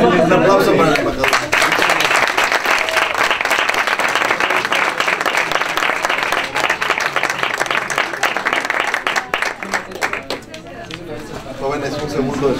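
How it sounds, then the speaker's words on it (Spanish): An audience applauds an ambassador at a lecture event, dense sustained clapping lasting roughly ten seconds and tapering off, with a voice speaking before and after the applause. "Un aplauso para el embajador."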